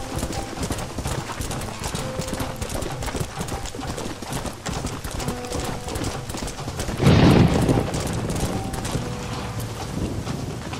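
Hooves of a horse clip-clopping steadily in Red Dead Redemption on PS3, a continuous trotting rhythm with mechanical clicks layered over game ambience and one louder noisy burst midway, no speech.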